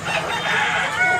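A large eight-month-old Sweater bullstag gamecock, white-legged, crows once at close range, a brief loud call filling the moment with no talk over it.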